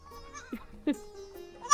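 Goats bleat at a rural homestead on a river char island in Bangladesh: a few short, wavering calls close by, fairly quiet, with no talk.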